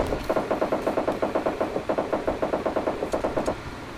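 Vehicle driving in PUBG Mobile Lite, a fast rhythmic engine chug pulsing steadily and loudly for a few seconds before easing off, with no talk.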